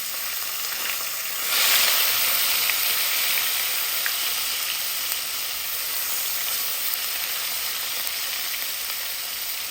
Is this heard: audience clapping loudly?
no